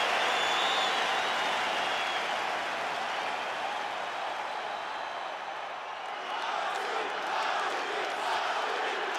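A capacity arena crowd at a simulated UFC 5 lightweight championship fight keeps up a loud, continuous roar of cheering and applause, with a commentator's voice running over it.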